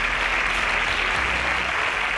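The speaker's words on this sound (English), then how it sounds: "A round of applause for him." A studio audience at a Nigerian quiz competition breaks into loud, dense, continuous clapping that holds steady throughout.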